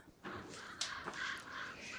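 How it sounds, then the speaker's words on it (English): Crows caw outside in a few harsh, rasping calls that overlap and repeat over about two seconds, moderately loud and somewhat distant, with no talking. "The crows are getting way more intense outside."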